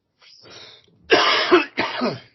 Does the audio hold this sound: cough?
yes